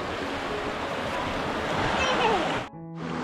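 A large provincial river flowing, heard as a broad, steady rushing wash of water with wind buffeting the microphone, nearly constant before a brief drop near the end.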